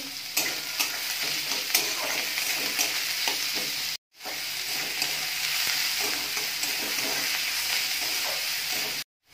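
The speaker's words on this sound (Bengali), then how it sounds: "পেঁয়াজটা ভালো করে ভেজে নেব।" Two large chopped onions fry and sizzle steadily in a pan with occasional stirring scrapes, loud and close, with a brief break midway.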